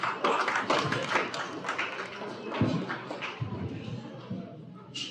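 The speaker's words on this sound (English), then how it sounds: "Let's give them a round of applause for class here" A stock show audience gives the class a round of applause, a burst of clapping with scattered taps and thuds that carries on under an announcer's voice.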